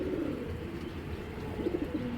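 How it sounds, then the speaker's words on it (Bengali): A pair of large red patti pigeons give low, soft cooing, faint and close, with a slightly clearer coo near the end. "অনেক বড় সাইজের এক জোড়া পাত্তি কবুতর।"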